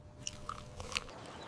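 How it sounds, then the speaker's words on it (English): Crunchy chewing of chocolate cake baked with eggshells, a few close, crisp crunches and bites spread over about a second and a half, with no talking. "This is actually really crunchy."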